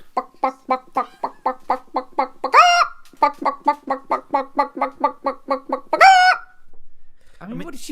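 Chickens cluck in a fast rhythmic series, close and loud, broken twice by a longer squawking call, with a short bit of voice at the very end.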